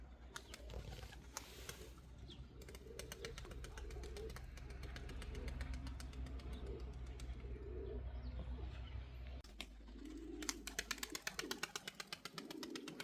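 Tumbler pigeons coo and flap in a loft, with a low steady coo rumbling under fluttering wingbeats and quick clattering bursts toward the end.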